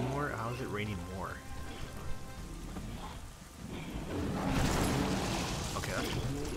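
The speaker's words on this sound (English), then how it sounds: "Is it raining more? How is it raining more?" Heavy rain pours down in Castlevania: Lords of Shadow, swelling from a steady hiss under game sounds and voices into a louder, dense downpour in the final seconds.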